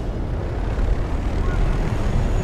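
Helicopter flying in the Battlefield Bad Company 2 video game, a loud, steady broadband engine and rotor roar that fills the scene continuously.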